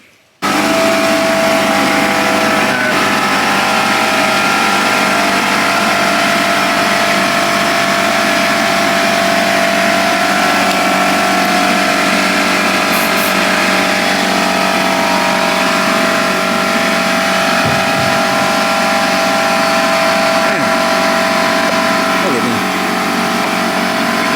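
A Harley-Davidson CVO motorcycle engine runs loud and steady close by, with broad continuous roar and rumble as it spins donuts on wet ground, while people talk over it.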